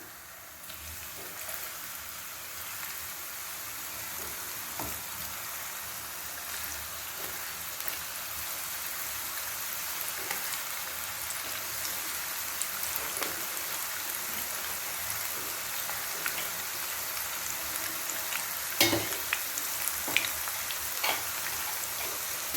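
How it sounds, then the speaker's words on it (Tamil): Okra pakoda pieces frying in hot oil give a steady, dense crackling sizzle throughout, with a few louder pops and spatters near the end and no one speaking. "வெண்டைக்காயை பொறிக்கிற அளவுக்கு திட்டமாக எண்ணெய் ஊற்றி எண்ணெய் காஞ்சிட்டு இப்போ கொஞ்சம் கொஞ்சம் போடும்"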